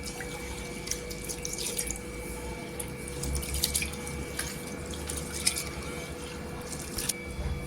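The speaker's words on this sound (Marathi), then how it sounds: "ते आपण 2 ते 3 पाण्याने स्वच्छ डाळ अशी धुवून घ्यायची" Mung dal being rinsed in water, with a steady wet sloshing and gentle splashing in a bowl, soft drips and swishes continuing throughout, close and moderately quiet.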